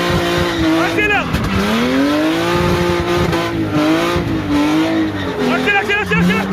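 A drift car's engine revving hard at a drift event, loud and continuous with rising and falling pitch, while a voice shouts over it close by.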